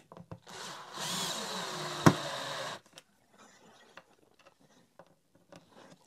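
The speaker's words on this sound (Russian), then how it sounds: "Винтики, чтобы не потерялись, я закручиваю обратно." A small power screwdriver whirs briefly at close range, driving small screws back into a Makita DVC150L vacuum, followed by a sharp click and a few faint handling taps in near silence.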